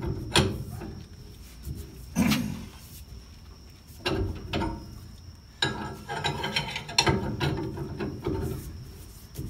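Intermittent ratcheting clicks and metallic clanks from a cheap wrench working a vintage Volkswagen brake drum puller, in irregular bursts with quiet gaps, close by and without talk.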